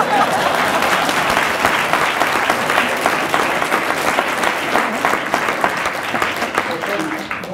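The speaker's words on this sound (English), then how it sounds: "That deserves applause." An audience at a lecture claps steadily and loudly for several seconds, a dense wash of applause with a few voices mixed in, tapering slightly at the end.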